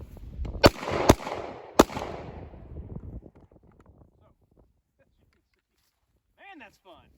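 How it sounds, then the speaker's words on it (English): Three sharp, loud gunshots ring out at a rubber dummy target, spaced about a second apart. Each is followed by a fading echo that trails into quiet, and a brief voice comes at the end. "So we'll take a few shots here, give you an idea of what it looks like."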